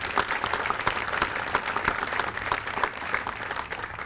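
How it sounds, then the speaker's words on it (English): Audience applause at a military change of command ceremony, honoring the color guard and band; steady, dense clapping fills the whole stretch at an even, fairly loud level with no talk over it. "let's please give them a round of applause"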